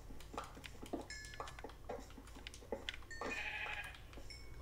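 Sheep bleat in the video game Minecraft, a string of short nasal calls repeating in quick succession, quiet, over a low steady hum, with a few light clinking sounds mixed in.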